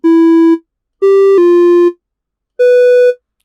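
Synthesized coded tones stepping through a C major scale, sounding as three clean electronic notes with sharp starts and stops, the middle one jumping in pitch partway through, with brief silences between them.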